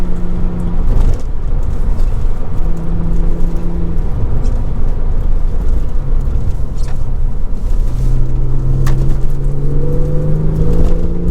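Loud, steady engine drone and road rumble from inside a Porsche 996 C4S with coilover suspension, driven through corners on a country lane, the pitch rising and falling with several throttle changes and no talking.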